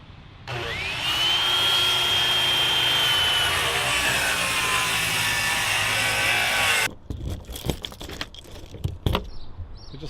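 A saw cuts 10-inch wood boards down to size during a home remodel with a loud, continuous whining rasp lasting several seconds. It stops abruptly, and scattered clunks and knocks of handling follow.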